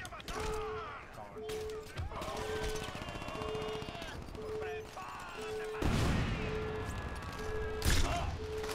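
Enemies in Crackdown shoot guns at the player, quick bursts of gunfire popping repeatedly amid game sounds and a regular electronic beeping, with a louder crash of shots near the end; someone talks over parts of it.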